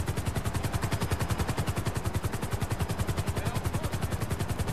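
A helicopter in the GTA 5 video game thrums with a steady rapid rotor chop, loud and close, the even beating pulses filling the whole stretch with no talk over it.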